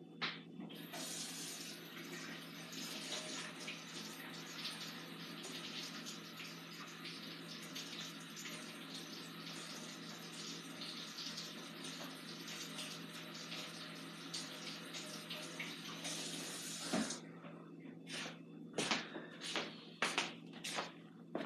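A tap runs in a steady, continuous gush for around sixteen seconds and then shuts off, followed by a few scattered bumps and handling knocks nearby.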